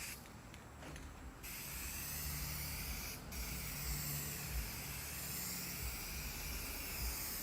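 A spray paint can laying down a light first coat on a generator box for a shuttle bus RV conversion; a steady, close hissing spray runs almost continuously, with one brief pause near the start and a short break midway.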